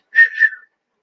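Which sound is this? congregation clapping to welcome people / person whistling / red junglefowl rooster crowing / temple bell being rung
person whistling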